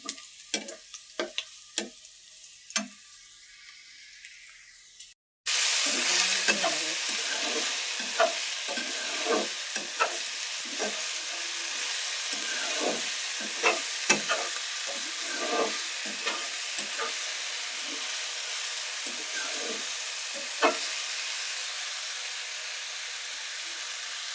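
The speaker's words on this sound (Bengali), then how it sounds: "আজকে আমি ঢেঁড়স ভাজি করবো এখানে।" Okra sizzles loudly in a hot pan after a few early clicks, with a dense, steady frying hiss and intermittent scraping of a utensil stirring the pieces.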